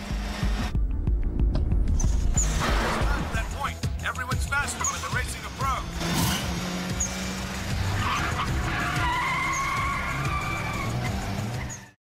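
Cars in a film's mountain road race roar and skid, with engine drone, tire squeals and whooshing passes building over several seconds, while a narrator talks over the action.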